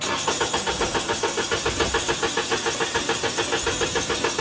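A car engine cranks over and over without catching, a steady rapid starter rhythm that never fires up, on a vehicle that fails to start only when its fuel tank is filled completely.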